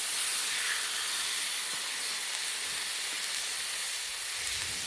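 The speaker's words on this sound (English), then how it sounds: "We'll throw them on the griddle." Hot dogs sizzling on a hot griddle without oil, giving a steady, loud, hissing crackle that runs evenly throughout with no voices.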